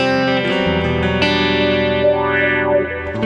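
A Charvel San Dimas electric guitar with Seymour Duncan JB and 59 pickups, played through a Fractal Audio FM3 Gig Rig preset, rings out in sustained, effected chords with chorus-like shimmer and a gliding pitch sweep, loud and close.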